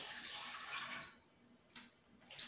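Water pours into a pot while chili is being made, a short splashy rush that fades after about a second and then gives way to a few small trickles.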